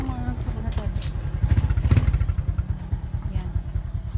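Motorcycle engine running close by on a rural road, a steady low putter with a rise in revs midway, with voices talking briefly over it.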